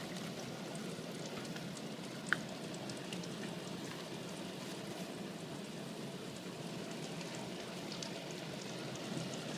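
Water leaks from a veranda roof in a steady, close trickle and patter like light rain on a surface, continuous and even with one brief sharp tap partway through.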